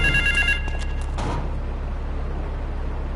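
A telephone in a video game rings loudly in a few quick electronic bursts during the first second, then cuts off and leaves a steady low hum.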